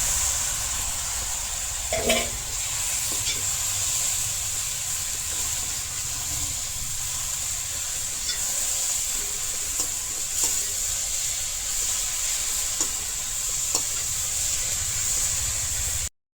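Onion, spices, boiled chana and karela frying in a pan: a continuous soft sizzle with occasional stirring scrapes, steady and close throughout.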